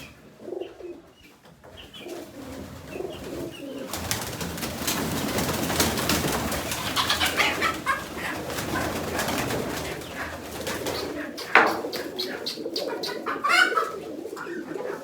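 Soft, low pigeon coos repeat close by over a rustling, breezy background, with a few brief chirps near the end; no talking.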